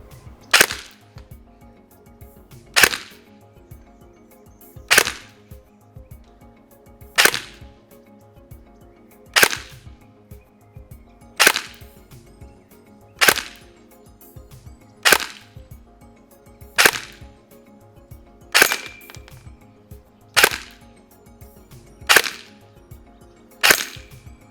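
A Sharps Bros Jack 9 airsoft pistol fires a dozen sharp, snappy shots over a chronograph, spaced evenly about two seconds apart, close and crisp with quiet pauses between.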